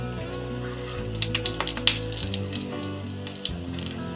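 Kabuli chana tikki frying in a pan over low heat, a steady soft sizzle with faint crackles and a low hum underneath, no talk.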